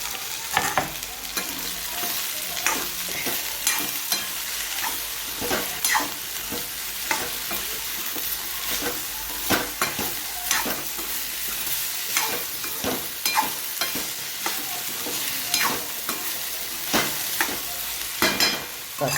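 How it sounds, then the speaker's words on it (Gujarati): Chopped okra fries in a pan and is stirred, giving a steady sizzle broken by repeated scraping strokes of a spoon at an even rhythm, close and moderately loud with no talking. "આપણે ભીંડા જે સુધારી મૂક્યા છે એ બધા આપણે અંદર નાખી દઈશું"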